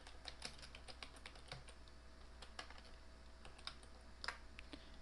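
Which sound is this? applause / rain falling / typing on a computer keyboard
typing on a computer keyboard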